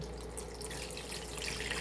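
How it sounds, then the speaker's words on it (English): Cloudy rinse water from homemade cultured butter is poured down a kitchen sink, a steady, moderately quiet splashing rush of liquid heard alone. "let's ditch the cloudy water down the sink"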